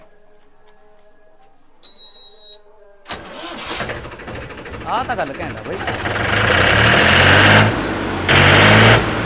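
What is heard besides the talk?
tractor engine starting and idling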